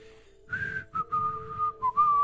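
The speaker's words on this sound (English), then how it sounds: "they use just like a whistle in their voice" Melodic whistling, a series of sustained pitched notes with brief gaps, carried over a soft rhythmic musical backing, from an ayahuasca icaro song.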